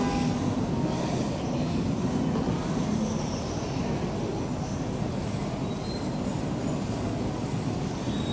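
Steady rumbling ride aboard a KRL commuter train between Tebet and Bogor stations, a continuous loud rolling roar with rattling wheel noise and faint high squeals, no voices.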